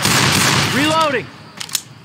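Weapon reloading in the Left 4 Dead 2 video game: a loud burst of mechanical clicks and a ringing metallic sweep, followed by a couple of short sharp clacks near the end.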